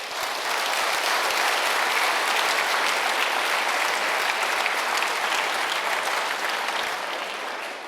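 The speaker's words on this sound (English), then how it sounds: "So a round of applause for Phoenix American" A conference keynote crowd gives a long round of applause, a thick, even wash of many hands clapping at close, steady volume before tapering slightly at the end.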